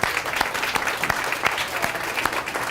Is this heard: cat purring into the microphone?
no